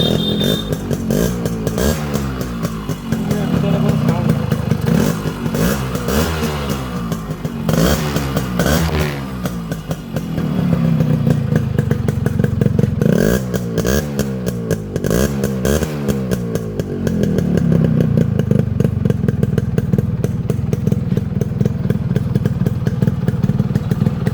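A Yamaha RX 100 motorcycle's two-stroke engine revving repeatedly, loud and close, with rising and falling surges over a rough idle and rattly clatter.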